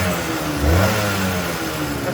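A motorcycle engine, just started in a shed after sitting unused for a long time, runs at a rough idle that swells briefly in a short rev before settling back to a steady hum.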